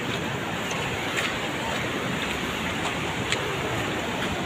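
Floodwater rushes past during a typhoon, a dense, continuous roar of flowing water mixed with wind buffeting, loud and unbroken throughout.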